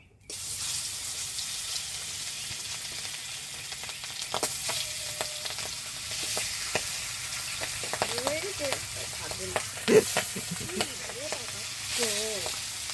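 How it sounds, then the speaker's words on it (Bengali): Pieces of large pangas fish frying in plenty of oil make a constant close sizzle with occasional sharp pops and spatters, and brief snatches of voice appear near the end. "বেশি তেল দেবো তত ফুটবে মাছ বেশি"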